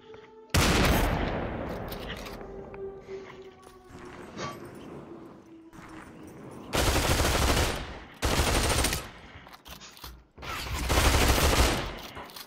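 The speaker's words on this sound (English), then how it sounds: "Oh crap, I'm being shot at." Gunfire in the Population: One VR battle royale, several loud sustained bursts of automatic fire separated by short pauses, with quieter shots and game sounds between them.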